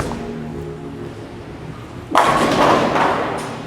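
A Track Theorem bowling ball released down a lane during a house shot, starting with a low rolling rumble before a sudden loud crash of pins near the end, with the clatter fading slowly.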